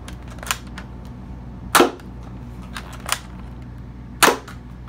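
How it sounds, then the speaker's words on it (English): A Nerf Hammerstorm toy blaster fires standard Elite foam darts, four sharp snapping shots spaced irregularly over a few seconds, close and fairly loud over a low steady background hum. "This is shooting standard elite darts that came with the gun."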